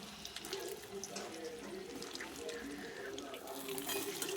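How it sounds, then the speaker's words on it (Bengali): Rohu fish kofta balls fry in hot oil, giving a faint, continuous crackling sizzle with a watery hiss that keeps going steadily and swells slightly near the end. "এবার তেলের উপর ছেড়ে দেবো এইভাবে"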